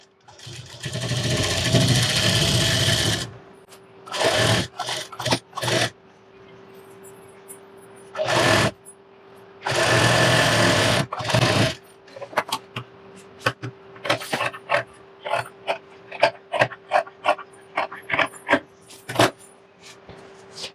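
A sewing machine stitches a bridal blouse in bursts: a few seconds of close, loud running, then short taps and pauses, another long run, and a string of brief stop-start stitches toward the end.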